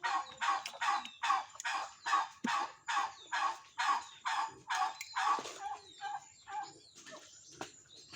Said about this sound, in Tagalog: May pabo sa likuran ko.